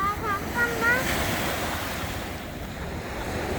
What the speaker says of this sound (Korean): 파도가 자꾸 쫓아오지